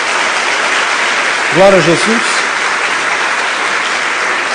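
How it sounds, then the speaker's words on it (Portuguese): A church congregation applauds, a broad, even wash of clapping that holds steady throughout, while a voice briefly calls out over it partway through. "Dê uma salva de palmas a Jesus."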